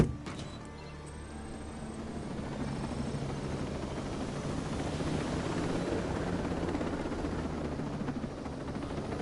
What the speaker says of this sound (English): Get into the helicopter.